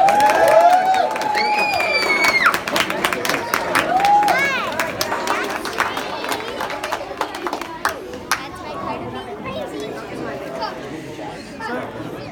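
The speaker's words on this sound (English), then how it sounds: "Let's give them a round of applause." Audience at a Cub Scout Blue and Gold dinner claps and cheers loudly, with excited voices and whistles over the applause before it thins out and fades.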